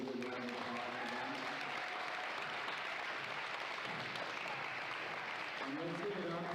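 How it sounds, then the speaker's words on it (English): Applause at a girls' volleyball championship, a broad, even roar of clapping that continues for the whole stretch in a large hall, with a voice speaking over it at the start and end. "So can you give a good round of applause for them?"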